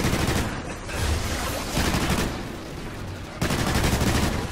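Sustained ARX rifle fire from the Call of Duty: Ghosts first-person shooter, heard as dense, loud bursts of rapid automatic shots with brief pauses, including a heavier burst near the end.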